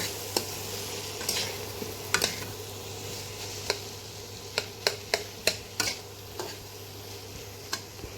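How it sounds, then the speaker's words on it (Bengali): Salted chickpeas are stirred in a little oil in a pan, a low sizzle punctuated by a string of sharp spoon clicks and scrapes against the metal; no voices. "একটু তেলও আমি দিয়ে দিয়েছি, দিয়ে নাড়ছি।"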